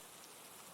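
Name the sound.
rain falling, sound effect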